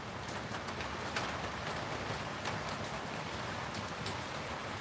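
Steady rain falls on a flooding backyard, a dense, even hiss of drops with occasional sharper drips, constant throughout and fairly close.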